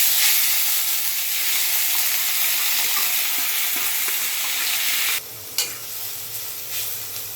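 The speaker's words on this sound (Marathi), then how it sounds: "तेल तापलं आहे, गॅस बारीक करून कांदा ऍड करते।" Chopped onion sizzles steadily in hot oil in a wok over a low flame, a loud, even frying hiss that fills the whole stretch and has a brief clatter near the end.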